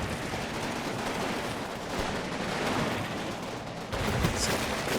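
Constant crackling gunfire and explosions from the World War II game Combat Mission Final Blitzkrieg form a dense, continuous barrage at mid distance, with a louder surge near the end.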